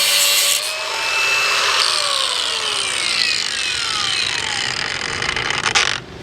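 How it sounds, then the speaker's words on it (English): An angle grinder cuts through a sailboat's stainless forestay wire, a steady loud high whine and grinding rasp that runs for several seconds before the tool spins down; no talking. "So I'll have to get the angle grinder for that."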